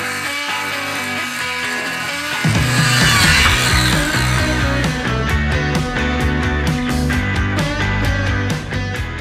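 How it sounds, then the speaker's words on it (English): A wooden board is cut in half with a power saw that starts after a moment and then buzzes loud and close in an unbroken stretch, its pitch wavering as the blade moves through the wood. "So now that I've cut my boards in half"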